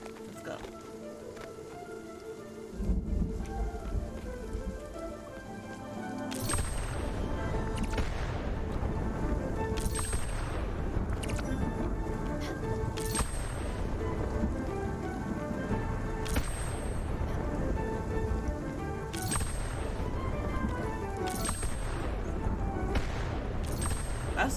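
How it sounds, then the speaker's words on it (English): Lightning storm in the Spiritfarer video game, with dense steady rain and repeated sharp thunder cracks striking every few seconds over a rumbling low bed, loud and continuous. "Ah, lightning storm."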